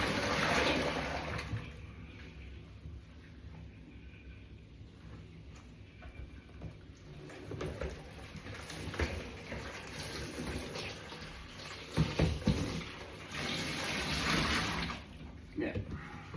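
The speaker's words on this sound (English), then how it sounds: "So just tip the water out." Water is tipped out and drains away, soft splashing and gurgling pours coming in uneven surges, fairly faint and close, with brief louder gushes toward the end.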